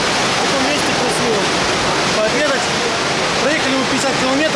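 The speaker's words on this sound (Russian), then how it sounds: "Здесь очень шумит вода. Горная река течет." Rushing mountain river in Central Asia, a loud continuous roar of churning water filling the whole clip, steady and close.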